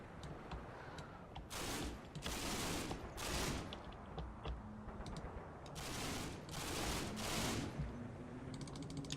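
Video game gunfire sounds as several short, sharp volleys at irregular intervals, crackling bursts separated by brief lulls. It is fairly quiet overall, with faint mechanical ticking in between.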